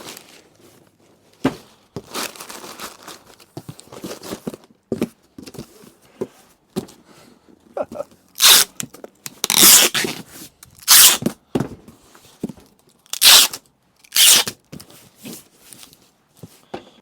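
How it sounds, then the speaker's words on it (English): Packing tape is pulled off the roll in loud, sharp ripping bursts and pressed down onto a cardboard box, with crinkles and taps between the pulls. "I always do the H section when I'm taping boxes, some through the middle, some on the edges where the flaps meet."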